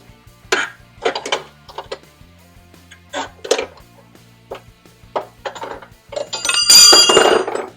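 Metal clinks and rattles of a ratchet wrench on 18 mm fasteners as long-tube headers go onto a New Edge Ford Mustang, short sharp bursts with pauses between them and some scraping near the end.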